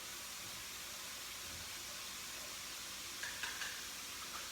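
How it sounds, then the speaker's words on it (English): Peas and tomato stir-fried on fairly high heat for fried rice, giving a steady close sizzle and hiss throughout, with a few brief louder crackles near the end. "all I'm doing is just giving this a real quick kind of little bit of a stir fry"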